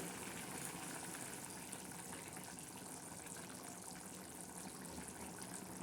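Dangar chakki vegetable dish simmering in a pan on a gas stove, giving a steady, close bubbling and hissing sizzle that stays even throughout with no talking.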